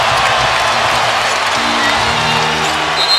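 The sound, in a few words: basketball arena crowd cheering after Bryant's basket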